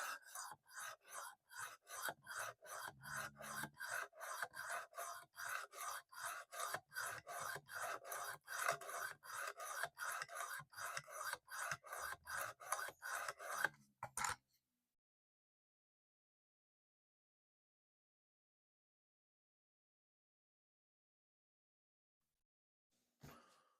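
A knife blade is drawn again and again across an abrasive stone on a Work Sharp Precision Adjust Elite sharpener, making close, rhythmic rasping strokes at a quick, steady pace. The strokes run for about fourteen seconds, then stop into near silence.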